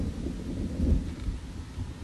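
Steady rain with a low, rolling rumble of distant thunder swelling briefly mid-way over a wild valley in Russia, with no voices.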